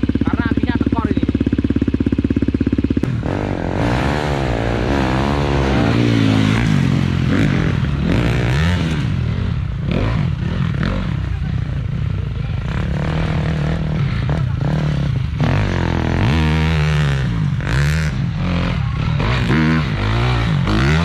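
Trail motorcycle engine with a weak spark and a faulty double starter, running and revving in wavering surges, loud and close, with people talking over it.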